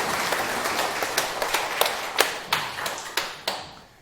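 A smaller audience at a Buddhist dharma talk gives applause that thins out into a few sharp, separate claps, spaced roughly a third of a second apart and ringing close by.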